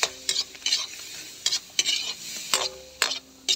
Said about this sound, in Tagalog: Pwede na nating ilagay itong ating bawang at sibuyas.